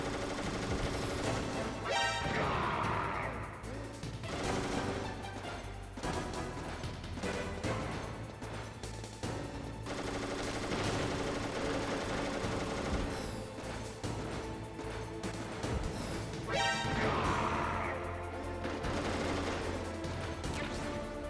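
Missiles fire and explode in the Metal Gear Solid video game, dense gunfire-like bursts and booming blasts layered over a loud, continuous game soundtrack throughout.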